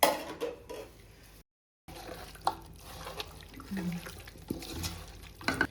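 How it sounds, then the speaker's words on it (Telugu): Raw chicken pieces being massaged and washed in water in a kitchen vessel, with soft sloshing, splashing and light clinks of the pot, broken by a brief silent gap. "ఇలా మసాజ్ చేస్తూ మంచిగా మిక్స్ చేస్తూ మంచిగా కడగాలి."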